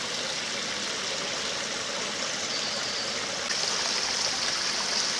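Steady rushing of a stream flowing beneath a small old bridge on Water Lane near Oxted, England, a constant close watery roar that swells slightly louder toward the end.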